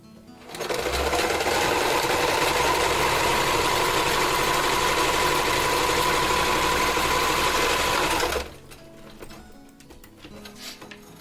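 Sewing machine running a straight stitch through sock fabric for a doll's garment, a steady loud whir with a constant hum that starts abruptly, runs for about seven seconds without pause, then stops, leaving quiet room noise.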